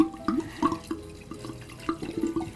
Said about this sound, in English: So we're going to pour in our bottle of wine.